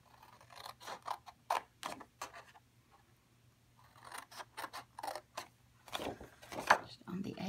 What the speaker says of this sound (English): You need to cut up the score lines.